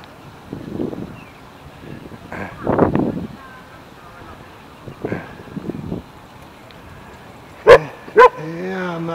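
An Afghan hound barks twice in quick succession near the end, loud and close, after a stretch of outdoor talk, wind and sidewalk ambience.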